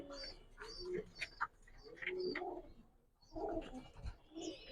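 Large-breed pigeons in a Bangladeshi loft give soft, repeated throaty coos at close range, with bursts of low murmuring and faint background voices.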